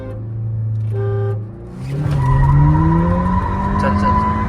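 Tires squeal and spin as a Skoda Laura vRS or an MG ZS EV launches in a drag race. A loud, sustained screech rises over the roaring car after a brief tonal lead-in, with no speech over it.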